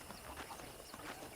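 Horse hooves clip-clop in Red Dead Redemption, faint and steady, with a soft, even rhythm of repeated hoofbeats under a low background hiss and no voices.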